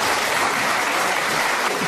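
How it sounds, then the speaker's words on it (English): Dense, steady applause from a comedy show crowd, loud and continuous throughout with no pauses. "A round of applause, please, for John, who's going to give it..."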